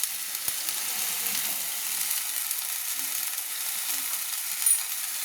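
Ghugni with a spoonful of salt frying in a pan, a steady soft sizzle with faint stirring scrapes and a small clink near the end, no voices.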